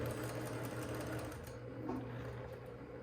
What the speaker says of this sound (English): So I'm going to sew just to there, And then I'm going to move it down and just sew the end so that it doesn't move.